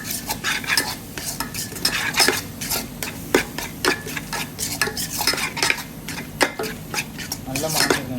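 Masala spices for a Kerala-style chickpea curry are stirred in a pan, with rapid, repeated scrapes and clinks of a spoon against metal over a soft sizzle, close and busy throughout.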